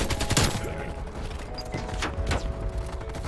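Gunfire from an AK-47 and other weapons in Black Ops Cold War crackles close in several quick bursts and scattered shots, over a busy, rumbling game background.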